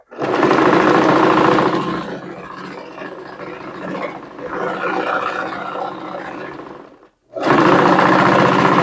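A sewing machine stitches a seam on a dhoti salwar in loud steady bursts, running hard at the start, slowing to quieter stitching through the middle, stopping briefly, then running loudly again.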